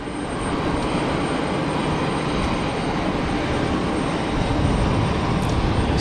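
Cessna Citation business jet rolling along a runway at Geneva Airport, a broad steady jet roar heard from a distance, constant in level and swelling slightly toward the end, with no voices.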